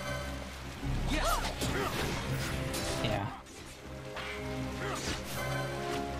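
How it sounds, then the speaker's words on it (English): Rain falls in the video game Final Fantasy XII, a steady hiss of downpour with game effects and clattering hits layered over it, and a voice briefly speaks. "It's raining."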